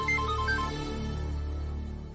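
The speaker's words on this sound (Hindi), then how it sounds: "देख, कमिश्नर का फोन है, खुद मुझे फोन करते हैं पर्सनली।" A mobile phone ringtone plays for an incoming call, a steady melodic tone pattern sounding loud and alone, with no talking over it.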